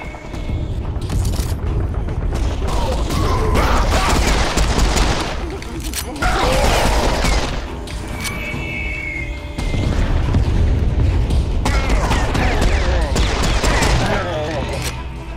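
Gunfire in the co-op shooter video game Serious Sam IV, dense loud bursts of automatic fire and booming blasts in long stretches with brief lulls between them, while voices talk over the action.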